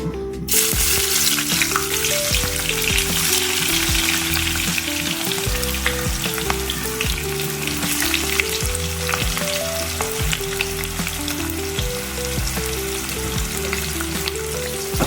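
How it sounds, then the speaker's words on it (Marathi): Thinly sliced onion frying in oil in a kadai, a continuous bright sizzle heard close up for the whole stretch, partly under a steady rhythmic music track with no voices. "कांदा एकदम ब्राऊन असा, एकदम क्रिस्पी असा होईपर्यंत त्याला तेलात चांगला परतायचा आहे"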